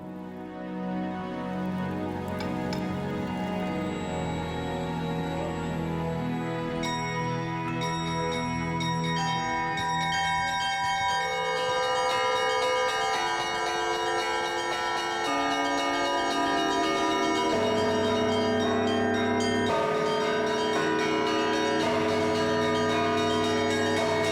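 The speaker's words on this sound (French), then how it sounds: "La voilà la naissance d'une nouvelle cloche." A newly cast bell rings at a bell foundry in Russia, its loud, sustained metallic tone layering with rich overtones that hum and linger continuously without any talk.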